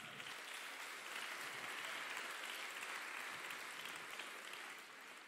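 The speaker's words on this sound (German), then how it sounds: "Ja, Applaus." Audience applause at a summer celebration event, a steady, dense wash of clapping that holds evenly throughout without voices on top.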